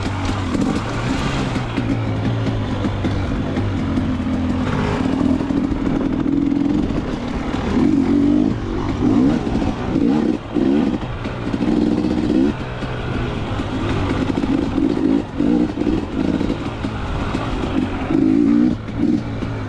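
A 40ex off-road racing bike's engine revs hard and steadily through a lap of a 2023 OMRA Clarks Branch GP race, the note rising and falling with throttle changes and staying loud and close throughout.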